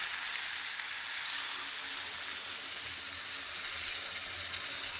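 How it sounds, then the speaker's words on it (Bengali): Water goes into fried, well-cooked masala in a pan for a fish head mixed-vegetable curry, giving a loud, steady sizzling hiss that holds evenly throughout with no talk. "তো আমি এবারে জলটা দিয়ে দেবো।"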